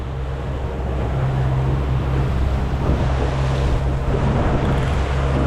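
Gusty squall wind and waves at sea around a boat out marlin fishing in bad weather, a steady loud roar with broadband wind buffeting the microphone and a low rumbling drone throughout.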